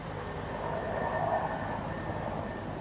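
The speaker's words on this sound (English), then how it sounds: "oh, there's a train coming." Train rumbling past in the Farm Sim 19 farming game, a steady, fairly loud wash of rail noise with a faint whistle-like tone, no talk.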